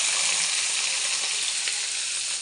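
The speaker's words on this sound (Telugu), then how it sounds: "ఆనియన్ మిర్చి ఎండుమిర్చి వేసేస్తున్నాను" Onions, green chillies and dried red chillies sizzle steadily in hot oil in a pan on a stove, a loud continuous frying hiss with faint crackles throughout.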